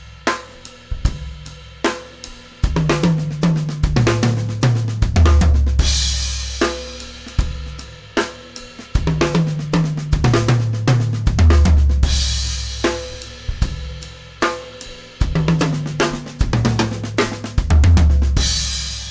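Drum kit playing a 3/4 figure laid across two bars of 4/4, with steady kick and tom hits under cymbals, a repeating cycle that loops several times, loud and close with no talking.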